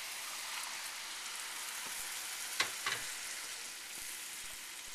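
Broth poured into a pan of risotto rice sizzles in a steady, bright fry with a couple of sharper crackles midway, fairly quiet and heard alone.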